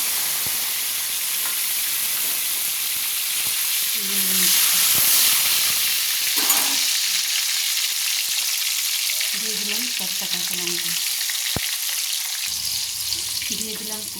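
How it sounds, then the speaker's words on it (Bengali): Chopped tomato sizzles in hot oil in a kadai while chicken kosha is being cooked, a steady frying hiss with brief bursts of stirring, heard alone and fairly close. "তেলটা আমার গরম হয়ে গেছে টমেটো কুচি দিয়ে দিলাম"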